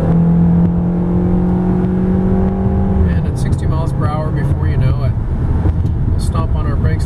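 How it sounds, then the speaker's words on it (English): A 2009 Honda Accord EX-L accelerating uphill with the air conditioning running: a steady, smooth engine drone with rising tones, and someone talking over the second half. "very smooth acceleration going up the hill with the air conditioning blasting"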